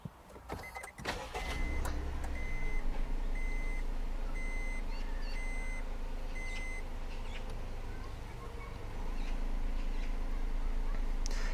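A Honda N-Box Custom kei car (JF1, Japanese import) starts up and settles into a steady idle, accompanied by a series of short dashboard chimes, heard from close inside the cabin.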